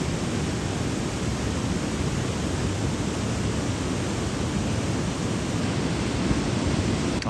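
Waterfall viewed from a suspension bridge in a Canadian forest, a steady broadband rush of falling water, loud and unbroken for the full seven seconds with no voices.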